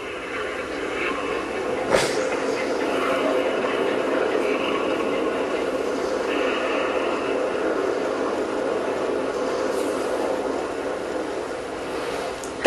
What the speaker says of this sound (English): That's a whirlpool. Stay clear of those.